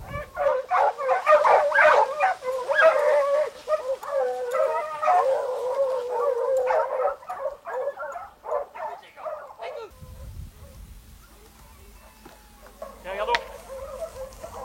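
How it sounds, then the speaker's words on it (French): A pack of hunting dogs bays and howls on a fox's trail, several voices overlapping in loud, excited cries that thin out to sparse distant yelps over a low rumble. "Très rapidement, les chiens prennent la voix d'un renard."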